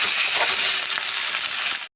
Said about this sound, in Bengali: এবার আমি আদা রসুনের যে পেস্টটা করে দিলাম সেটা দিয়ে একটু ভালো করে ভেজে নেব।